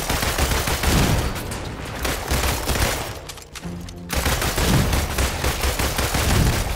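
Dense automatic gunfire during an Iron Man space mission in the Avengers video game, loud and continuous rattling bursts with a brief lull in the middle before the shooting resumes, no talking.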